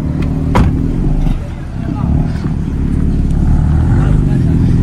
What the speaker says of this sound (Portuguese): Engaja seu carro ali, Lucas.